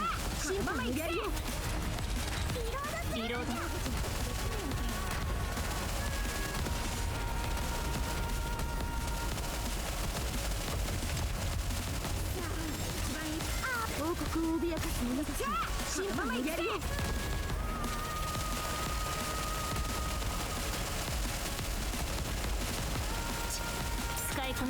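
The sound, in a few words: automatic gunfire in video game Goddess of Victory NIKKE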